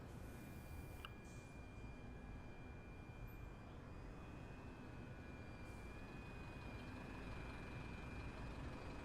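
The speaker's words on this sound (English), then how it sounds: "So don't be concerned that you can hear a diesel engine running." Diesel bus engine idling nearby in Train Sim World 3, a low, steady, faint rumble holding for the whole stretch, with a thin high tone running over it.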